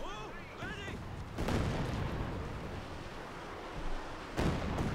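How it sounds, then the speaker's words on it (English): Katyusha rocket launcher barrages in Company of Heroes 2 roar out as dense, rumbling artillery fire with repeated booming impacts and whooshing salvos throughout. "Bulat is just absolutely on fire with that Katyusha rocket launcher"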